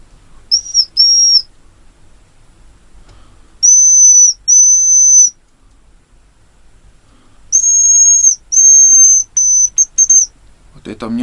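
A hazel grouse decoy whistle sounds in a forest cabin by a stream, giving thin, high, piercing notes in short groups of two to four with silent gaps between, loud and close.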